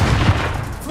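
A short, dense burst of gunfire in a warzone-style video game, booming low and loud across the whole moment with no pause or talk.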